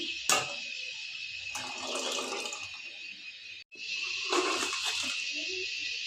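Tamarind water poured into a simmering fish curry, a steady splashy liquid stream with brief breaks and a short gap midway, close and fairly quiet, no talk.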